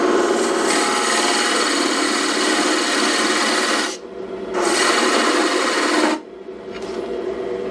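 A lathe cutoff tool plunges into a turned wood spindle, making a loud, continuous scraping rasp that breaks off briefly twice as the tool is eased back.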